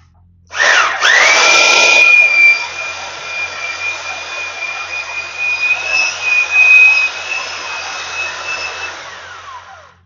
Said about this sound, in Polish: Mieszadło budowlane, takie dość porządniejsze.